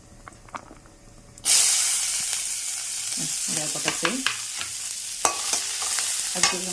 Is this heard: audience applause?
no